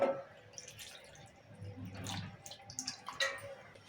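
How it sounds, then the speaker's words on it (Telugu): Water trickles and splashes into a container of tamarind set to soak, a brief, quiet pour, with a few drips near the end. "ఇప్పుడు నీళ్ళు పోసి ఆనబెట్టుకుందాం"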